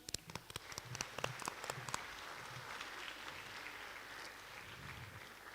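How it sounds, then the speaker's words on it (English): Audience applause for speakers at a Niu Wave graduation ceremony, starting with a few sharp, scattered claps, then settling into a softer, steady wash of many hands, fairly distant. "I'll give them another round of applause"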